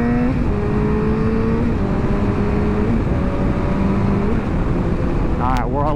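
A motorcycle engine revs and pulls steadily while shifting up through the gears to sixth, with stepped tone changes at each shift. A continuous, loud drone fills the clip, and a sharp rising rev closes it.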